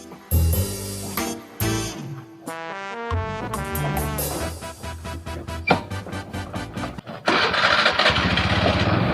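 A motorcycle engine cranks and catches in a short Indonesian film scene, sputtering in uneven bursts before settling into a loud, steady revving drone up close.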